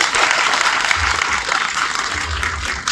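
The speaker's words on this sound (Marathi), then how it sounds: "टाळ्या मला बरं नका पाठवू," Loud, dense applause from an audience at a political rally or meeting, steady clapping throughout the three seconds without pause.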